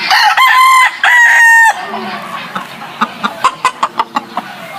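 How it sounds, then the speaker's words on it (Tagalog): Chickens on a game farm, with a rooster crowing loudly twice up close, followed by a run of sharp, rhythmic clucks and calls from the flock. "natin dito mga ilang manok ni Boss Aga ng white jacket"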